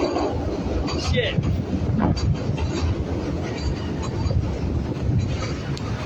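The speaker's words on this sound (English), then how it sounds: "It's the main train station." Rail traffic at Chicago's main train station, a steady, loud rumble of train cars with wind buffeting the microphone and people talking over it.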